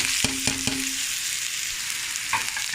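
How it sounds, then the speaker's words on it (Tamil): Ginger, chili and garlic fry in hot oil for prawn and vegetable fried rice, a bright continuous sizzle with a few quick clanks of a spoon at the start and one more near the end, close up and without talk. "அதுக்குள்ளே போட்டு நல்லா இது வதங்கட்டும்."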